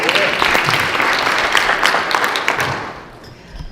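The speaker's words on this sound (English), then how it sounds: "Give him a round of applause." Applause from a debate audience at a House District 30 candidate event in Mat-Su, Alaska, a dense steady clapping that fills the room for several seconds before tapering off near the end.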